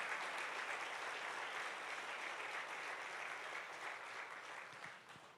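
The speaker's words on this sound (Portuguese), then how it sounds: "Então aplaude e glorifique o Senhor, exalte a Ele, louvado seja Deus." A church congregation applauds during a worship service, a steady wash of many hands clapping that holds evenly and then thins slightly toward the end, with no voices over it.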